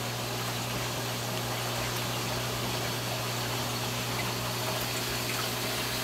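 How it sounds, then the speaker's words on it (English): An ATB Elegance 200 protein skimmer churns air into fine bubbles, giving a constant, dense watery hiss over a steady low pump hum. It runs unbroken and close, with no talking. "it sucks an awful lot of air. You can really see those bubbles churning down."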